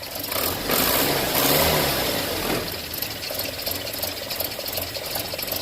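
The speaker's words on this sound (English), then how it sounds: "pretty sure I can hear an exhaust leak." A car engine idles steadily with a rough, puffing rattle from an exhaust leak, likely at the downpipe, a brief louder swell early on, no voices.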